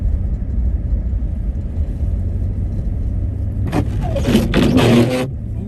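A car spins donuts on a snowy road in Maine during a snowstorm, with a constant low engine and road rumble, then a loud scraping, grinding burst of snow and tires near the end.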